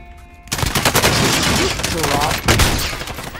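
Sustained automatic gunfire in Warzone, a dense, loud burst of rapid shots that starts abruptly and rattles on for about three seconds with no pause.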